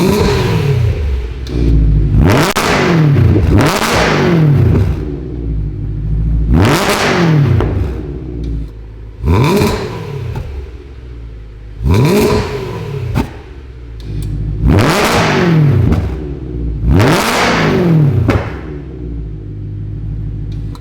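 BMW E90/E92 M3 fitted with a Bomiz exhaust, revved repeatedly in a series of sharp throttle blips, each rising to a loud rasping howl and falling back to a deep burbling idle, close up.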